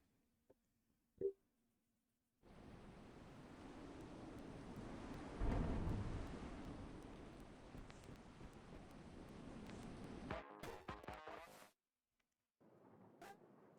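A video game thunderstorm with a long, loud rolling rumble of thunder over steady rain. It fades into a crackling tail, then cuts off abruptly, leaving a brief quiet gap before the ambience returns.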